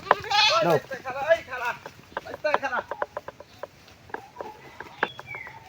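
A goat bleats in a village setting, giving wavering cries early on and again in the middle, mixed with people talking and scattered clicks and bumps.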